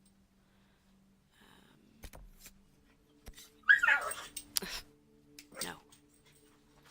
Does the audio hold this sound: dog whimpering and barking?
yes